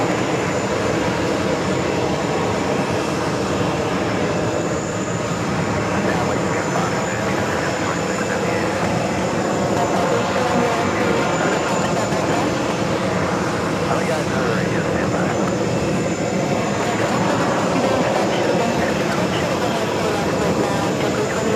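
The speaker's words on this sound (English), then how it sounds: "His gates at Terminal 4, coming in from SFL, this Delta 757-200, originally delivered to" A Delta Boeing 757-200 airliner taxiing in to its gate at JFK Terminal 4, a loud, steady jet engine roar that holds without a break throughout.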